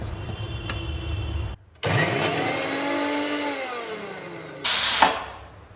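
A mixer grinder whirs steadily while grinding coconut for chutney, a loud motor hum that runs for a few seconds after a brief stop and ends with a harsher burst.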